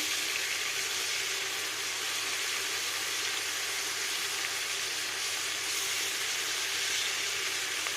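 Steady sizzling of banana flower pieces with prawns frying in hot oil in a pan, a continuous hissing crackle at moderate level with no talk over it.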